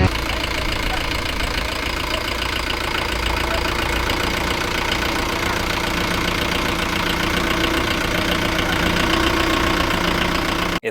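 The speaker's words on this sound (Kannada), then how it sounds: "ಇದು ನ್ಯೂ ಮಾಡೆಲ್ ಮಹೀಂದ್ರಾ ಟ್ರಾಕ್ಟರ್ ಇರಬಹುದು" A new-model Mahindra tractor engine idles nearby in a loud, steady diesel drone with an even knocking throb that holds throughout, with no voices.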